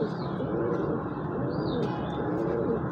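Pigeons coo softly and repeatedly against a dense, noisy background. The birds are a fancy breed of kabootar being shown off by a keeper.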